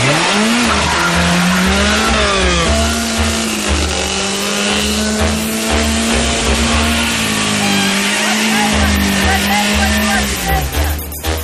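A car engine revved hard and driven off, loud roaring with rising and falling engine pitch and squealing tires, a voice talking over it throughout.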